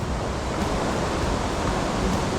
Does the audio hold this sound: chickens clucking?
no